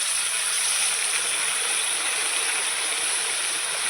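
Water from the spice-grinding bowl poured into a fish curry, a steady hissing, rushing stream that stays even and close for a few seconds with no talk.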